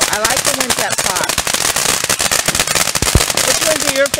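Independence Day firecrackers popping in rapid, dense crackling bursts, loud and close, with people talking over them.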